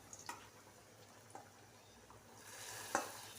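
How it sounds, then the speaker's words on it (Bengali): Oil tempering, or baghar, poured into khichuri in a home kitchen gives a faint, soft sizzle and a few light ticks and stirs, swelling into a brighter hiss near the end with one sharp splutter. "দিয়ে দিলাম বাগার।"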